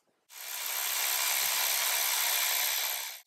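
A power tool spins at the bolts of the oil filter housing on a Jeep Cherokee KL with the 3.2 Pentastar engine, making one continuous bright whirring burst of about three seconds, close and fairly loud with no talking.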